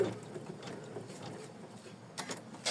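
An embroidery machine stitching an in-the-hoop rainy cloud design, a close, steady mechanical whir with a rapid, ratcheting needle rhythm and a few sharper clacks near the end.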